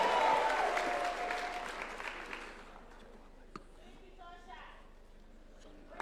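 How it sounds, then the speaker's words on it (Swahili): Applause for Aaron Cheruiyot, leader of majority, at a UDA delegates meeting at State House: loud crowd clapping at first, fading steadily over a few seconds into a quieter hall with scattered sounds and voices. "Wapi makofi ya Aaron Cheruiyot"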